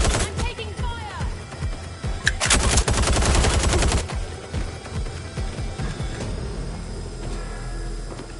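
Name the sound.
gunfire in Watch Dogs Legion video game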